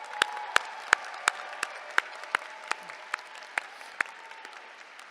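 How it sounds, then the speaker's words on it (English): Commencement audience applauds a graduating class of 2026 at an outdoor university ceremony: sustained clapping with distinct sharp claps, steady and moderately distant, with no talk over it. "Let's give them another big round of applause."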